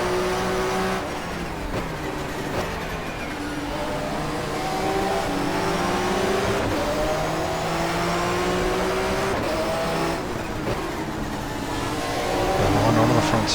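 A racing touring car in the GTR2 game, set in a 1994 German Touring Car Cup race at Diepholz, drones loudly and continuously at high revs after shifting up to fourth gear, its pitch climbing and dipping with throttle changes.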